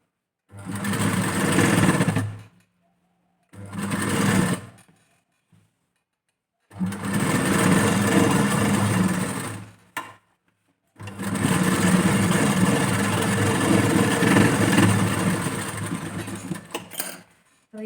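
Sewing machine stitching a blouse, running in four close, even bursts of rapid mechanical whirring separated by short silent pauses, the last burst the longest.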